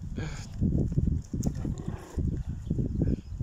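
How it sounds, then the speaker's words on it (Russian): A young horse in training moves with muffled hoof thuds and clip-clop steps, irregular and close, mixed with low shuffling and a faint voice. "Обучение лошади молодой."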